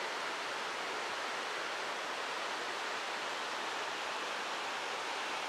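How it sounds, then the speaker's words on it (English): A small waterfall roughly 12 to 14 feet high, flowing out into the Muskoka River through cedar forest, gives a steady, dense broadband rush that stays even and unbroken throughout, with no voices. "goes over another little waterfall that's maybe, I don't know, 12 or 14 feet and goes out into the Muskoka River"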